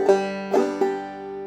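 Clawhammer banjo playing the opening measure of the June Apple B part: three plucked notes with ringing sustain, close and clear, alone and unaccompanied.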